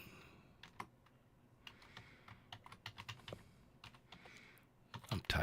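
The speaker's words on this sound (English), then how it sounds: "I'm typing now." Typing on a computer keyboard at a desk, with irregular clusters of close, crisp key clicks and brief pauses between bursts, no talking.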